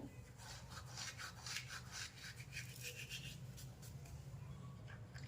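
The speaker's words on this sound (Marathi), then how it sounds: "थोडा ओवा घेतला आहे मी तो क्रश करून टाकायचा आहे आपल्याला" Ajwain (carom seeds) crushed between the palms, a faint, continuous dry rubbing and gritty rustle in quick repeated strokes, quiet and close with no voices.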